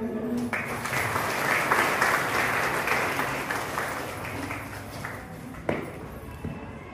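An audience claps at a felicitation during a primary-school teacher-parent meeting, with dense applause rising quickly and fading out over several seconds, a few faint voices beneath it.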